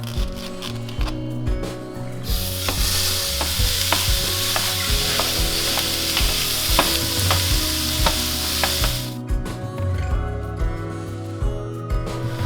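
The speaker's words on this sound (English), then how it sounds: "Now I'm gonna add 1 pound of ground beef." One pound of 90/10 ground beef browns in a pan, sizzling loudly and steadily with repeated scraping, stirring clicks and knocks throughout. No voices are heard.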